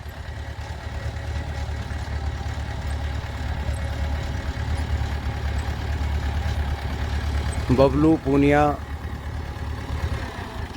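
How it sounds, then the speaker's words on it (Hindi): Old International 276 tractor, made in England, idles out in a farm field with a steady low diesel rumble throughout, while someone talks briefly over it near the end. "इस ट्रैक्टर की मुझे आवाज़ बहुत प्यारी लगी"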